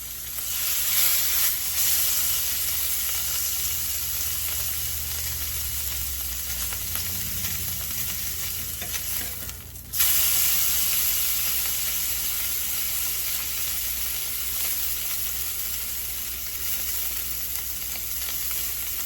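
Venison backstrap searing in a hot cast iron pan, a loud continuous close sizzle that dips briefly and then resumes at full strength, with no talking.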